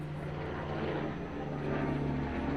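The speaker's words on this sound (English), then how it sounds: "These helicopters will not stop." Helicopters flying over a beach give a steady, loud rotor and engine drone with a low, throbbing hum that holds throughout and swells slightly toward the end.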